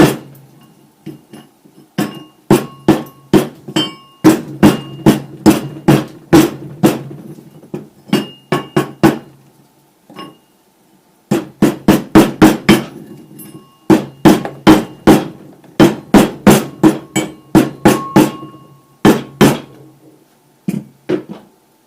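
Sharp metallic strikes of a big Allen wrench pounding gold-bearing rock, delivered in rapid bursts of ringing clinks and knocks, close and loud, with a pause midway before the hammering resumes.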